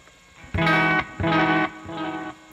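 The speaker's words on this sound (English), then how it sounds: "you can get a sort of medium tempo echo, but at a high tape speed," Homemade tape echo unit running at high tape speed, giving a medium-tempo repeat: a loud distorted tone sounds, then two echoes follow at even intervals, each a little quieter and more smeared, with no talking.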